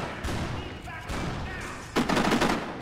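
Bursts of gunfire from the shooter video game Kane & Lynch: Dead Men crackle in quick volleys, with a denser rapid burst near the end and other game sounds beneath.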